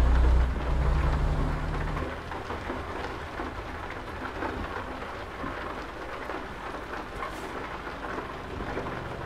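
Steady rain patters throughout in the video game American Truck Simulator, with a low thunder rumble at the start fading into continuous wet hiss.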